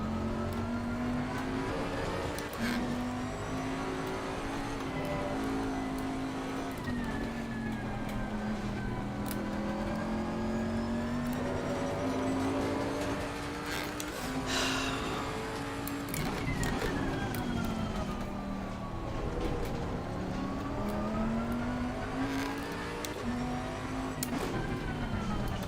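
Porsche race car engine in the Assetto Corsa Competizione racing game, recorded in VR at Hungary: a steady, sustained engine drone whose pitch rises and falls through the gears, loud and continuous over the whole stretch.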